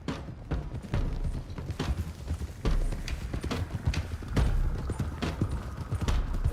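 Horses' hooves clip-clop in a brisk, steady rhythm as several riders move out together in Red Dead Redemption 2, close and clear with a few louder thumps.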